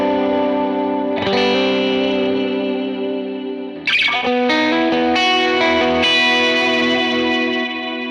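An electric guitar runs through a BigSky Cloud 1 reverb preset in a rhythm setting: sustained distorted chords ring out with lush, washy reverb and chorus, and fresh strums hit around the midpoint and later on, with no talking.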